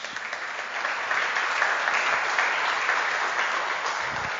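A church congregation applauds during a pastor's sermon, a steady wash of many hands clapping at once that holds at an even level throughout without speech over it.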